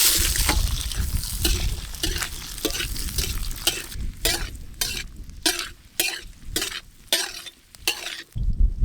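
Chopped onion sizzles in hot cooking oil for a tomato chicken masala while a utensil stirs and scrapes the pan in a repeated, fairly even rhythm. The frying hiss stays close and continuous throughout.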